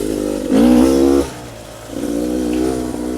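A 300RR dirt bike engine under riding load, revving up loudly in a strong surge, dropping off briefly, then climbing again in a second sustained pull, close to the rider.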